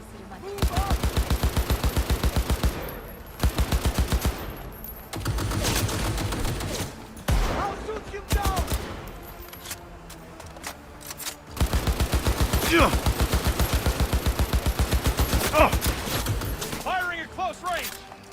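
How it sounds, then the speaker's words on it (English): Rapid gunfire from the video game Cyberpunk 2077, with long loud bursts of close automatic fire broken by short pauses, mixed with shouted voices, impacts and scattered single shots. "Firing at close range!"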